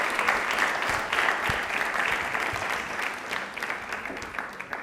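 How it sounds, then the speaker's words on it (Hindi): Steady applause from a studio audience for a teacher on a televised quiz programme, a dense even clatter of clapping lasting about five seconds at moderate loudness with no voices over it. "तालियां भी देखो मैम के लिए जोरों से होनी चाहिए"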